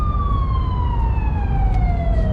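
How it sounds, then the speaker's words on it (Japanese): A police car siren wails steadily, loud and fairly close, with a falling tone over constant road traffic noise on a street in Budapest. "今日はいろんなサイレンが聞こえるね。"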